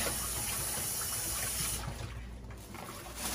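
Water runs steadily from a tap while passion fruit and other juice ingredients are washed, a faint, even rushing that thins slightly toward the end.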